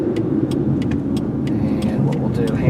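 A 2003 Chevy Malibu sedan eases to a stop on a road, its engine and tire rumble steady and close inside the cabin, with scattered faint clicks over the low drone.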